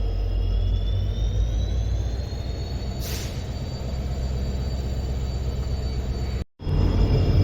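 Express train 16226 from Shivamogga to Mysuru departs with a steady low rumble of rolling wheels and a thin high squeal running throughout, heard close and continuous without talk.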